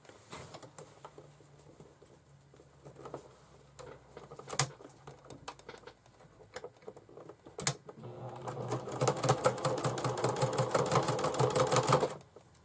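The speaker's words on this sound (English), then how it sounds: "Then we're going to sew it the same way we did the lining fabric, and go a little slow" Sewing machine slowly stitching through thick, bulky layers of bag fabric with a denim needle, starting with scattered slow clicks and knocks, then building to a louder, steady run of rapid needle strokes before stopping.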